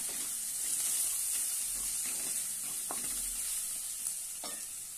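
Vegetables frying with red chilli powder, salt and black masala as they are stirred in a pan, a soft steady sizzle and hiss with a few light scrapes of the spoon, no voices.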